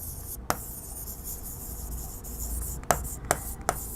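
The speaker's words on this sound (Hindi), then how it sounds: "मैं वापस से लिखना चाहती हूँ" Pen or marker strokes during a chemistry lesson: a faint, continuous scratch broken by a few sharp taps on the writing surface, close by and without speech.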